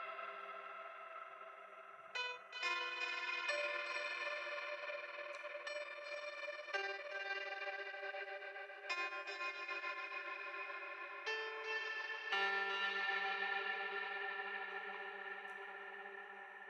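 A sustained, bright synthesizer tone with gating and tremolo effects giving a pulsing, chopped texture, its chords shifting every few seconds without pause.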